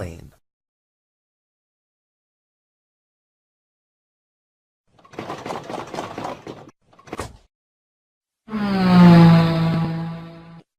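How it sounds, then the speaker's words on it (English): A motorbike engine revs in a short, loud, tonal burst near the end, after a long silence and some brief scattered noises. "Motorbike."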